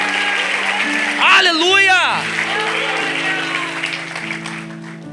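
Conference audience applause forms a steady, dense wash of clapping through the whole stretch, with a loud voice shouting briefly over it near the start and sustained musical tones held underneath.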